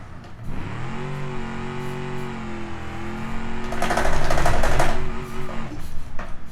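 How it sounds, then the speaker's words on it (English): Mechanical whirring and rattling from a racing wheel controller during BeamNG drifting, with a steady engine-like drone that swells into a louder, noisier burst near the end. "my mic is gonna pick up a lot of noise from the wheel"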